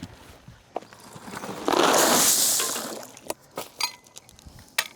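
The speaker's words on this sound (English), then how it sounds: "That's as far as we plan on going with the fabric. So I'm just gonna go ahead and cut this." Fabric being cut close up, one sustained rasping, swishing stroke lasting about a second and a half, followed by a few short scrapes and clicks in an otherwise quiet room.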